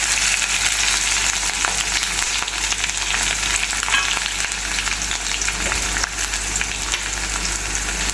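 Chopped garlic, ginger, curry leaves and shallots fry in hot oil in a pan for beetroot pachadi, giving a steady, loud, even sizzle with faint stirring throughout and no talking.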